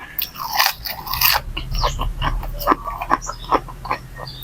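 Close, crisp crunching bites and chewing of large blanched blood cockle meat dipped in spicy sauce, a steady run of sharp crackly crunches with soft murmurs between bites.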